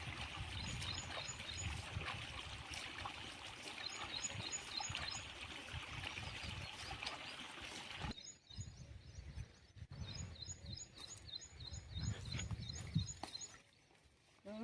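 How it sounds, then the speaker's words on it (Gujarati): Water trickles slowly from a pipe on a farm, splashing steadily at close range, a continuous wet babble with small chirping birdsong high above it. "પાણી હાવ થોડું થોડું આવે"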